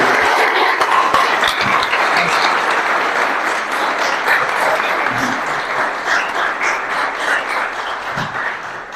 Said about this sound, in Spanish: Un aplauso para Claudio.